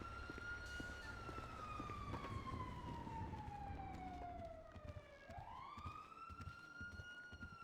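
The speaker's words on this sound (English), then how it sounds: "Oh, I still hear the sirens." A police siren in GTA V sweeps slowly downward in pitch, then jumps back up and starts a new rising wail, heard at a moderate distance over a rumbling background.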